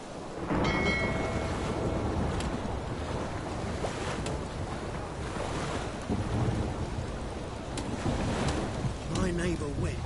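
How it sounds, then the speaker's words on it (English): Rain in The Witcher 3 on PS5, a steady wash of rainfall with rumbling low noise underneath, joined briefly by a few sharper ticks, constant throughout. "Rain, I like rain."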